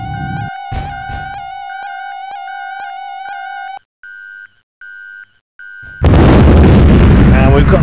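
Bombs exploding on ground targets in the EF2000 combat flight game, with T-80 tanks among them: a loud, sustained broadband blast roars in near the end after a run of steady electronic warning beeps and tones.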